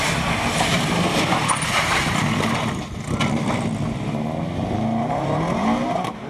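Subaru Impreza rally car on a tarmac rally stage, engine revving loudly and continuously with gear changes and a short dip in volume midway.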